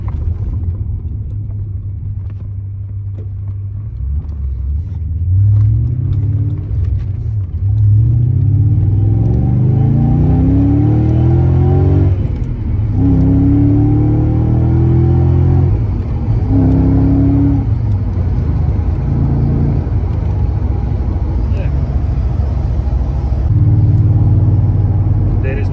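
BMW E31 840ci swapped to a six-speed manual cruising in sixth gear around 60 mph at just over 2000 rpm, a loud continuous low interior engine and road rumble with rising and falling drone as speed shifts.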